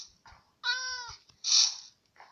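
A Minecraft cat gives a clear, close, drawn-out meow, followed by a brighter second mew and soft clicks, alone without talk.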